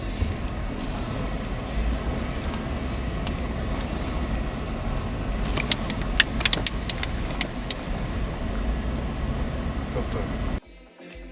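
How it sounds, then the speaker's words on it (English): A car drives off-road with a steady rumbling drone of engine and tyres over rough ground, joined by scattered clicks and knocks in the second half before the sound cuts off abruptly near the end. "We've officially gone off-road. Let's see how this thing handles this."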